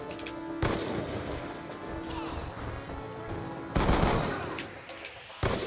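Rapid gunfire bursts in the video game Black Ops 2, a long loud stretch of shots followed by a sharper burst near the end, with a steady game hum underneath.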